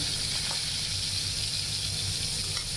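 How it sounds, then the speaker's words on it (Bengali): Fish fries in a pan with a steady, dense sizzle and crackle, close and continuous, with no voices. "এরপরে এই তো আমার মাছটা কিন্তু প্রায় ভাজা হয়ে গেছে।"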